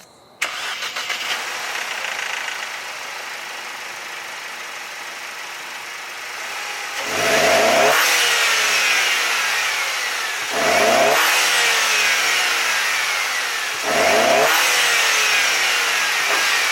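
A Mercedes W204 C250 fitted with a cold air intake cranks and starts, settles into a steady idle, then gets three sharp revs that rise and fall back, loud and close with intake noise and no talking.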